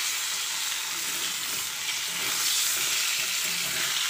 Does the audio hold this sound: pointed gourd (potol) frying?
yes